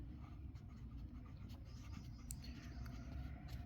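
Pen scratching across paper while a math exercise on a given function is worked out, a soft continuous writing sound close by over a low steady hum, with no talking.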